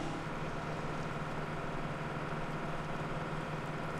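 A tractor engine in Farming Simulator 17 hums at a steady, quiet idle, a low continuous drone with no breaks and no voices.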